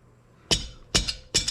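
Three sharp metallic taps on a Yamaha XS650 engine part being worked off its dowel pins, evenly spaced about half a second apart, close and fairly light, with no talk.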